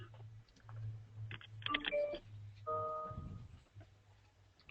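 Telephone keypad dialing tones on a conference call, a quick run of sharp multi-tone beeps in two bursts over a steady low hum, with faint background noise and no speech.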